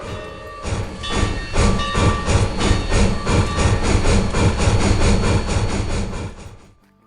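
A train sound effect fades in and rolls past with steady rhythmic clickety-clack and heavy rumbling, loud and sustained before quickly fading out.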